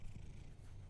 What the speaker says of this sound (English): Aw, cute kitty.